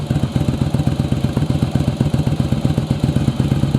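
A second-generation Yamaha Virago motorcycle engine idles low with its oil pressure gauge fitted, giving a steady, close, rapid thumping pulse with light mechanical clatter throughout.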